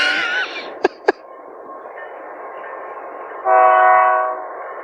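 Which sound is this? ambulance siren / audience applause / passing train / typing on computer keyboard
passing train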